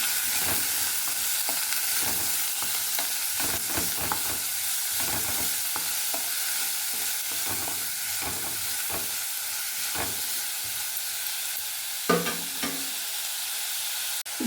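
Onion and curry leaves sizzling in a pan for masala idli, a steady loud frying hiss with repeated clattering stirs of the spatula throughout and a sharper knock near the end, no voices.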